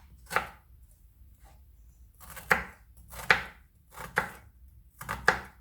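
A kitchen knife chops through an onion on a board in five distinct, crisp strikes spaced unevenly about a second apart, close and clear against near silence, with no talking.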